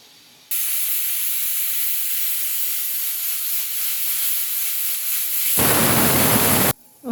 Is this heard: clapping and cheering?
no